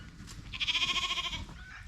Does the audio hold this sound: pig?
yes